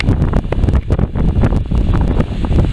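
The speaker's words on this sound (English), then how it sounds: "it's getting a bit breezy" Strong gusts of wind buffet the microphone on the summit of Old Speck mountain in Maine, roaring loudly and unevenly with sharp rumbling bursts throughout.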